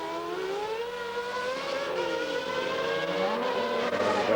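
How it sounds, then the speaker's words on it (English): A 1992 Formula 1 car with an ailing engine passes at the Belgian Grand Prix, its high, strained whine sliding in pitch under crowd and track noise, moderately distant and alone without voices. "Mansell goes past us, sounding very sick in the engine department"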